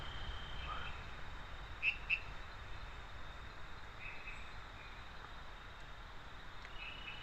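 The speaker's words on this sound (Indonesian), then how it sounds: "suara jangkrik, suara hewan-hewan lainnya, kemudian suara hembusan angin" Quiet forest ambience during a solo bivouac, with a low, constant wash of insect and cricket noise, a faint breeze, and a couple of brief high bird-like chirps standing out near the start, all soft and distant.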